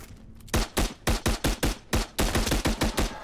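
A rapid string of about a dozen sharp pistol shots in the VR shooter Into the Radius 2, fired in quick uneven bursts, loud and close with short decays and no talking.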